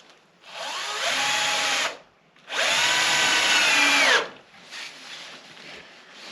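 A power drill drives small screws into a bamboo card display, running in two long, loud whirring bursts separated by a short pause, then a third, quieter stretch of lower, steadier running. No one speaks.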